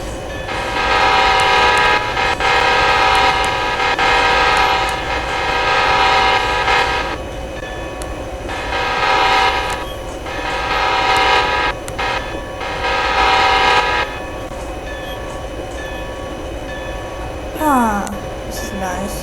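An intermodal freight train rolls along in a rail yard simulator game, with steady rumbling wheels and engine drone and several long loud horn blasts, followed by a brief shorter tone near the end.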